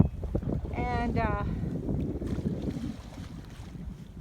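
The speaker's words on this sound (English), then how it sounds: "So we are now sailing" A sailboat moving under sail off Mexico with its engine switched off, wind buffeting the microphone and water washing along the hull in a steady rush while a voice speaks briefly over it.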